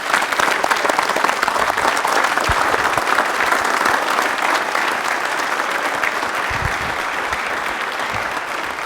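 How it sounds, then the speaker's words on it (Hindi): A studio audience at a televised quiz show on DD Rajasthan gives a long, steady burst of loud applause, dense clapping sustained throughout. "तो रोहित जी के लिए तालियां एक बार जोरदार वाली"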